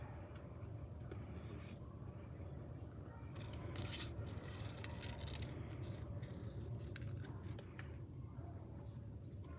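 Scissors snip through paper while shapes are cut out for a pumpkin craft, making faint, close, irregular crisp cuts over a low background hum.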